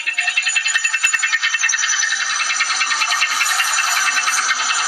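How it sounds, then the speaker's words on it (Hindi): A motorcycle piston knock heard through a stethoscope held on the cylinder: a close, continuous mechanical whir with a rapid rhythmic knocking, sharper clicks near the start. "यहाँ आप खटखट और ठोकने पीटने जैसा शोर सुन सकते हैं"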